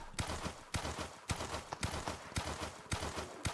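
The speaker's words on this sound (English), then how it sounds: "I for sure hear hoofbeats" Horse hoofbeats in a Wild West–style video game, a rhythmic clip-clop of repeated paired hoof strikes at a steady trotting pace, crisp and fairly close, with no voices.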